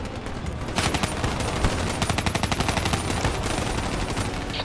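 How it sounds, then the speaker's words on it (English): Sustained automatic gunfire in the Black Ops 3 campaign, a fast, loud, rhythmic stream of shots that starts after a brief lead-in and continues without pause beneath a dense game soundscape. "Focus your fire on the VTOL."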